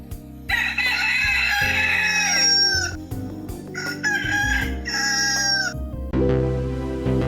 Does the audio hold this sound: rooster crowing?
yes